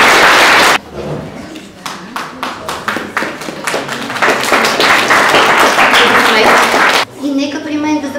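Applause at a fourth-grade graduation ceremony at a school: a brief burst of clapping, then individual claps growing into dense, loud applause that swells, breaks off suddenly and resumes lighter near the end.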